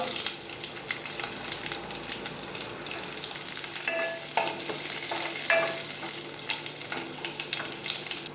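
Tempering spices with asafoetida crackle and sizzle in hot oil in a heated kadai while making mango dal. A steady frying hiss runs throughout, with occasional sharp pops and light stirring clinks, close and fairly quiet.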